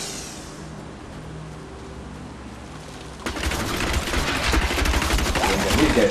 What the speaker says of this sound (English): That's a chain gun, okay?